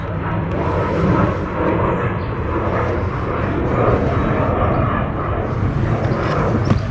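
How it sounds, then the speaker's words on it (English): A steady, broad roar of an airplane passing overhead, fairly distant and not very loud, droning continuously throughout, heard near a Triumph Speedmaster motorcycle. "The planes again."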